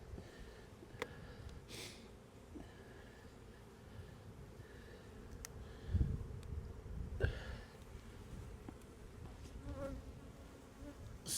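Honey bees buzzing steadily around an open hive, a close, continuous drone with individual bees passing near, plus faint handling knocks from hive work.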